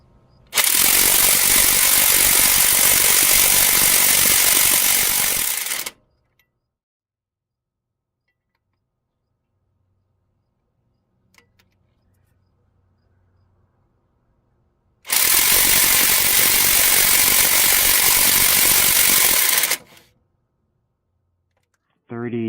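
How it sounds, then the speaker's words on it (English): A 3200 RPM impact gun hammers at a stuck flywheel on a Hyundai Tiburon in two long, loud, buzzing bursts, each about five seconds, separated by near silence. "3200 RPM impact gun"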